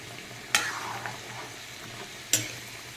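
Curry sautéing in a pan gives a steady low sizzle and simmer, broken by two sharp scraping stirs of a utensil against the pan, close and fairly quiet.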